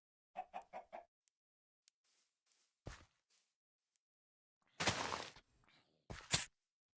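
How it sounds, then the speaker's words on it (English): Minecraft chickens cluck in a quick burst of four notes at the start, followed by scattered soft game sounds and two louder thumps or bursts later on. "He was just pushing a chicken."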